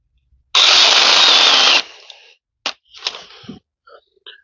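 A cordless mini chainsaw whines loudly under load for over a second, then cuts out as its protection trips from the chain binding, followed by scattered clicks, knocks and clatter.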